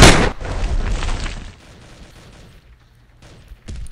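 AK-47 fire in the multiplayer shooter Modern Assault: a loud burst of rapid shots that tails off into quiet, then one more sharp blast near the end.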